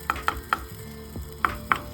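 A frozen paratha being handled gives a few sharp, crisp cracks and crackles, close but fairly quiet, in two small clusters with a brief gap between them.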